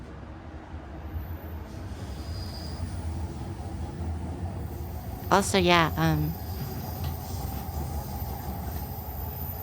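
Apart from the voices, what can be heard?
loud passing train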